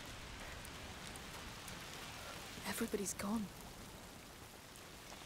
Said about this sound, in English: It's raining, what do you expect?